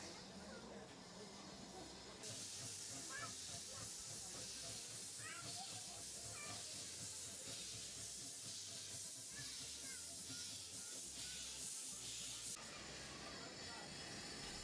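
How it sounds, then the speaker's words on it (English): A vintage narrow-gauge steam train in Austria hissing, a broad loud rush of escaping steam that swells in after a quieter start and holds steady, with rail rumble beneath and faint voices mixed in. "for railway enthusiasts, the company runs steam trains with vintage carriages."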